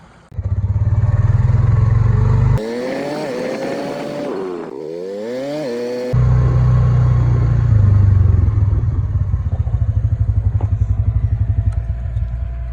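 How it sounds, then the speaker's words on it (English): A tractor engine runs steadily, driving an irrigation pump beside a farm field, a loud continuous low rumble with a brief swell of rising and falling whine in the middle before the steady drone returns. "There's a tractor running, and the reason it's running is it's running a pump."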